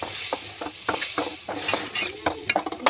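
Fish curry with green banana, tomato and coriander leaves being stirred in a pan, a quick series of close scraping and clinking utensil strokes against the metal, soft overall with little sizzle.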